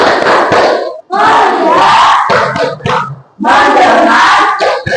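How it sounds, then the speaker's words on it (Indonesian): A classroom of students doing the 'tepuk fokus' chant, loud group voices calling out in unison in short bursts with rhythmic claps between, pausing briefly before the final burst. "kita tepuk fokus sama-sama"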